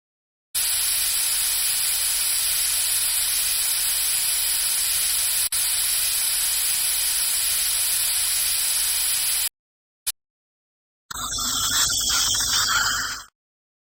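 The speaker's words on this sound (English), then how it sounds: "I run the suction to remove the water." Dental suction hisses steadily for about nine seconds while clearing water from teeth in a braces surgery video game, then cuts out, followed by a tick and a second, brighter spray-like hiss.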